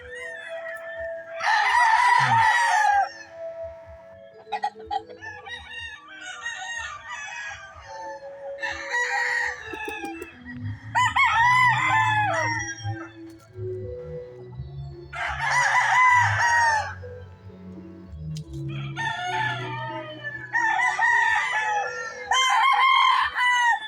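Gamefowl roosters and young stags at a farm crow in loud repeated bursts, several birds in turn at close to middling distance, with low clucking and farmyard rustle between crows and no talk.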